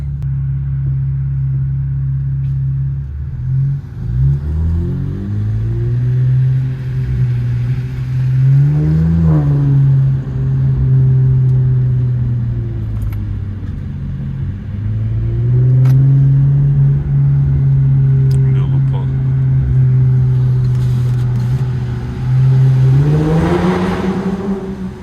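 An Infiniti Q50 with new intakes and a downpipe drives at night, its engine rumbling steadily and loudly, with revs climbing twice as it accelerates.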